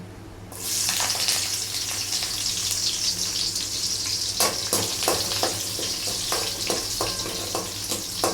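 Crushed garlic drops into hot oil and bursts into a loud, steady sizzle that fills the kitchen and keeps crackling close by without letting up.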